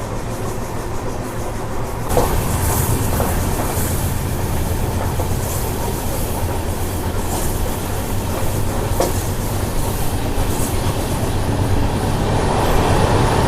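Prasanthi Nilayam Express with new LHB coaches rolls steadily past, a dense continuous rumble of wheels and carriages with faint rhythmic clatter and occasional brief squeals, loud and close throughout, no voices.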